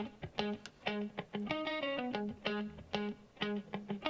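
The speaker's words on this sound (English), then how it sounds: "the main guitar riff sounds like this" A crunchy, slightly distorted electric guitar plays a repeating riff of plucked notes and short chords at moderate volume, with no voices.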